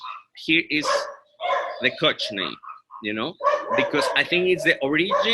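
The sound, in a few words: dogs barking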